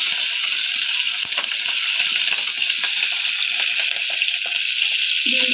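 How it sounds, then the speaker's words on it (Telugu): Green dal, mung beans, tip into a hot frying pan and set off a steady, loud hissing sizzle with small scattered pattering, close by and with no talking. "దీంట్లోకి గ్రీన్ దాల్ వేసుకుంటున్నాను"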